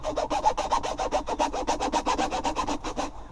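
A hand saw cuts through an MTOK-A1 fiber-optic cable coupler during installation, a rapid steady rasping stroke rhythm of about five strokes per second, close and loud with no talking.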